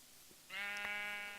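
A sheep bleats once, loud and close, in the video game Minecraft Feed The Beast. The bleat is a single drawn-out call lasting about a second over a quiet background.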